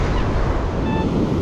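Ocean waves wash up a beach as the tide comes in, a steady, loud broadband roar of surf with some wind buffeting, heard alone without speech.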